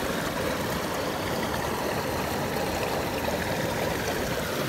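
The Yuba River flows steadily nearby in California, a continuous broadband rush and trickle of water over rocks with no pauses and no voices.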